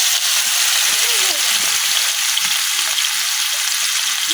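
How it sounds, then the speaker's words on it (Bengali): Pangas fish frying in hot oil, a loud, steady hissing sizzle filling the whole stretch with faint bubbling and a brief voice underneath. "তেল গরম হয়ে গেছে, এখন আমি মাছগুলো দিয়ে লিখতেছি।"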